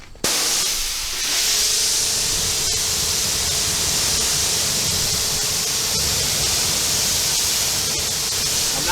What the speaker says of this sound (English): I'm not getting close to the wheel with the pressure washer because I want the wheel cleaner to do the work.